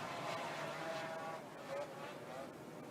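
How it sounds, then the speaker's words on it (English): Racing snowmobile engines run at an evening championship event under the lights, a blended distant whine and drone under a general crowd wash, steady and fairly faint. "Turn on the engines and let's go racing."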